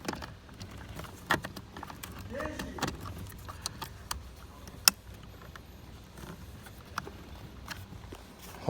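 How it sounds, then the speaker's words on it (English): An electrical connector is plugged back in on a Ford F150 EcoBoost FX4 with a no-start fault, giving a few sharp, close clicks amid quiet rustling and handling noise. "and you will hear things clicking in place."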